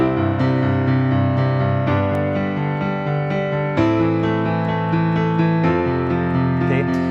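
Piano chords with a bouncing low bass pattern alternating between root and fifth in the left hand beneath sustained harmonies, played steadily and close.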